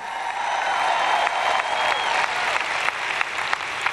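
A large audience claps steadily at a Christian teaching event, a dense, continuous wash of applause holding at an even loudness throughout with no voices on top.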